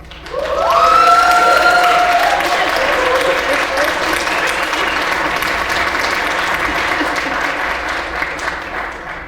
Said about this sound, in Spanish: Su aplauso.